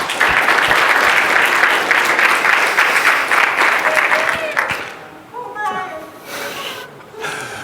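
Applause rises from a conference audience at a Python Software Foundation talk, loud and dense for about five seconds, then thins out as a speaker's voice takes over.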